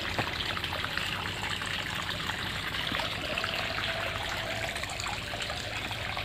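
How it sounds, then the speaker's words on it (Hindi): Water sent from above runs steadily into rice paddy fields, a continuous close trickling and gushing stream with no pauses and no speech over it. "पानी इधर धान के खेतों में भेजा जा रहा है"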